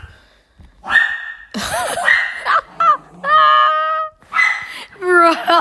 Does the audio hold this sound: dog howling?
yes